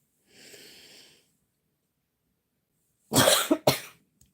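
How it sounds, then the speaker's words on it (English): A soft breathy exhale, then after a pause two sharp, loud coughs close to the microphone. "told you I've been having a cough"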